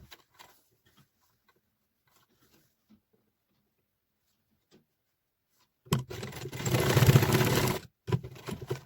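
After a long near-silent stretch, a sewing machine stitches patchwork fabric in one loud continuous run of roughly two seconds, then stops briefly and starts again.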